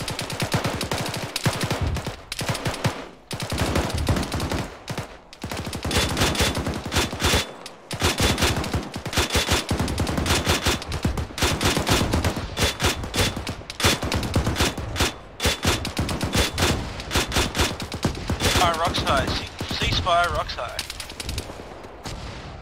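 Sustained incoming gunfire in a military video game, with dense automatic bursts and single shots crackling nearly nonstop, loud and close, with brief pauses and faint voices underneath.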